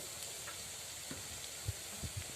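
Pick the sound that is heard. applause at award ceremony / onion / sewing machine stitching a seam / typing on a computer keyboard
onion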